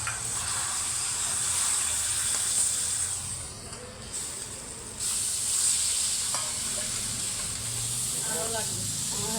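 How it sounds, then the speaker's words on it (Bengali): Water poured into roasting semolina for sweet barfi sets off a loud, steady frying sizzle that dips briefly midway and then surges again, with faint voices in the background. "জলটা দিয়ে দিচ্ছি"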